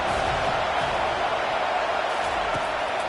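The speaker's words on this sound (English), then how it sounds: "This crowd bringing the energy and noise early." Stadium crowd at a football game roaring steadily, a dense wall of cheering and shouting that holds loud and constant throughout.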